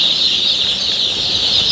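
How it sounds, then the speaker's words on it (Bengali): Young Fayoumi chicks at a poultry chick shop keep up a dense, steady mass of shrill high chirping, loud and continuous with no voices over it. "এই যে ফার্মি মুরগির বাচ্চা, অরিজিনাল এ গ্রেড ফার্মি মুরগির বাচ্চা"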